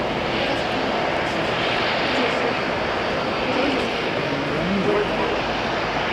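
ATR turboprop airliner at Auckland International Airport, a steady moderately loud engine drone with a faint propeller hum, while a person talks over it.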